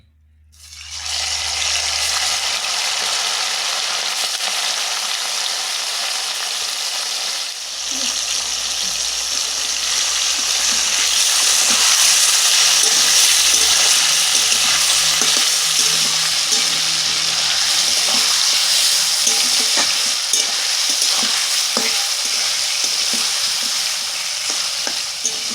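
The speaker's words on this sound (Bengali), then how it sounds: "এবারে ম্যারিনেট করে রাখা চিকেনগুলো আমি একটু ভেজে নেব।" Marinated chicken frying in a pan, a continuous loud sizzle with some stirring and clattering for the whole stretch, a brief quieter dip early on, no talk over it.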